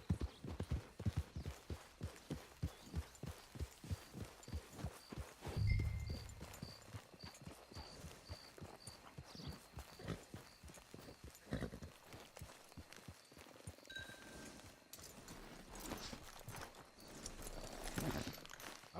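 Horse hooves clip-clop steadily in Red Dead Online, a regular walking rhythm of close, distinct hoof strikes that fades into quieter ambience, with a faint whinny and soft game sounds in the background.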